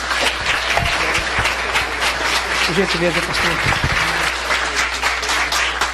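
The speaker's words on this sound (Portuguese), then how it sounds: "Os irmãos recebem o reverendo com a linda salva de palmas." A church congregation applauds as a visiting reverend is welcomed, a dense, steady wash of clapping running the whole time while someone speaks briefly over it.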